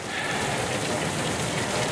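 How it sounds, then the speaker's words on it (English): Heavy rain pours steadily onto a backyard and deck, a dense unbroken hiss that is close and loud throughout with no voices. "did we need this rain"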